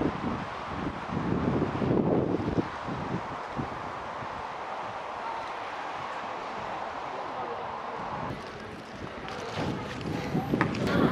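Strong gusting wind buffets the microphone at a seaside barbecue spot in Macau, a steady broadband roar with louder bursts near the start and end, while people talk over it.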